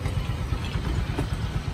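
A Yamaha Freego 125i scooter engine idles steadily with a low, even rumble, running close and continuously without other sounds.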